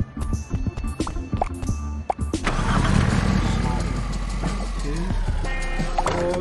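In the video game Sneaky Sasquatch, a fast car running on snow tires cranks with a few clicks and taps, then its engine catches and settles into a loud, steady roar that holds to the end.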